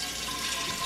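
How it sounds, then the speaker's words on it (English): A cup and a half of water pouring into the bottom of a pressure cooker, a steady close splashing stream without a break. "I'm just gonna pour a cup and a half of water on the bottom of this."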